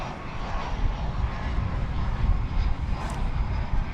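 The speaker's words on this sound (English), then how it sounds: "American Flight 2409, about to depart for Fresno, California, in Airbus A321" An American Airlines Airbus A321 departs DFW Airport at night bound for Fresno, a continuous loud jet roar with deep low rumble that stays fairly constant, near and alone without voices.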